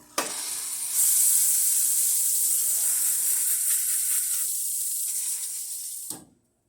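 The steam wand of a Lucca La Spaziale mini espresso machine blasts a loud, continuous hiss for about five seconds, strengthening after the first second. It then cuts off abruptly into silence.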